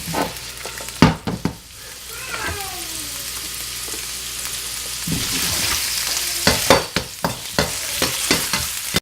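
Vegetables for beef lo mein sizzle and fry loudly in a pan, with bursts of stirring and scraping clatter near the start and again toward the end.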